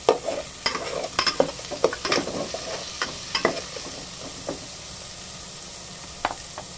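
Close, soft sizzle of food sautéing in a pan while it is stirred, with irregular scrapes and clicks of the utensil against the pan over a steady frying hiss, no talk.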